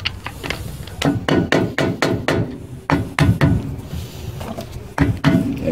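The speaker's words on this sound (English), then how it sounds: "you take the other screwdriver and you start hitting it inside" A screwdriver is struck repeatedly to drive it inward, sharp knocking hits landing in irregular bursts with short gaps, close and loud.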